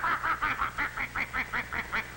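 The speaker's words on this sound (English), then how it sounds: "The geese flapped their wings angrily" Geese honk and flap their wings in a quick repeated series of about ten calls, loud and close, with a low rumble beneath.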